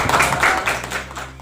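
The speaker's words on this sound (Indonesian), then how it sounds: "Bagus, tepuk tangan." Students in a classroom applaud, a short burst of brisk, close clapping from a group that fades within a second or two.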